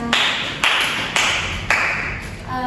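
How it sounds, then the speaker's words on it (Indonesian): A group in a classroom claps hands together in unison, giving four sharp, loud, evenly spaced claps, each followed by a brief ringing decay. "tepuk tangan semuanya"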